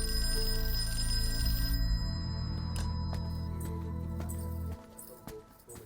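A telephone rings with sustained electronic tones over a droning musical background. There is no talk, and the ringing thins out toward the end.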